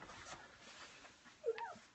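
Newborn sheepdog puppies give faint, brief whimpers and a small squeaky yelp, close by but soft, with no speech.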